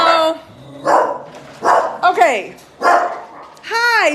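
Rescue dogs and puppies at a south Texas dog rescue bark, yip and whimper loudly and close by, in repeated bursts, while someone talks between them.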